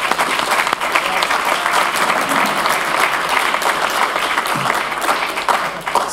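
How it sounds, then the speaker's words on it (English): An audience at a moot court ceremony gives a steady round of applause, a dense, continuous wash of many hands clapping that stays loud and even from start to finish. "I think we need a round of applause for Innocentia and Agassi for coaching the teams"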